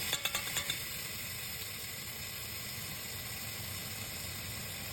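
Garlic hits a pan with crispy seared pork chunks for Filipino pork adobo, giving a soft, steady sizzle after a few quick clicks at the start.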